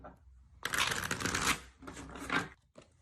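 Tarot cards are shuffled by hand for a reading: a close riffle of crisp paper flutters in two or three bursts, with short pauses between them.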